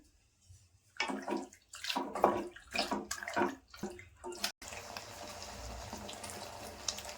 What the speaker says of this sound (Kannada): ಪಾಸ್ತಾ ಬೇಯಿಸ್ಕೊಂಡಿರೋ ನೀರಿತ್ತಲ್ಲ, ಅದನ್ನ ಹಾಕೊಂತ ಇದ್ದೀನಿ.